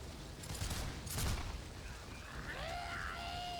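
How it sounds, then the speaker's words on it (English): A volley of massed army gunfire in the Warhammer Battle March strategy game, with two crackling, booming bursts, then a rising whistle-like tone. The sound is moderately loud against a steady background roar, with no voices. "I was hoping that would kill the clan rats in one volley."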